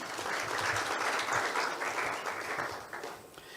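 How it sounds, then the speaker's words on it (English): An audience at a live event applauds in a dense, even wash of clapping that holds steady for several seconds before thinning slightly at the end. "Another round of applause, please, for him."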